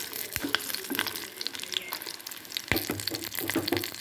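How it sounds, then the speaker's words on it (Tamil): Steady sizzling of tamarind, garlic and dried chillies frying in a hot pan, with occasional clinks of a utensil stirring against the metal. "இப்போ அந்த புளி பூண்டு காஞ்ச இதெல்லாம் கொஞ்சம் வதங்கட்டும்"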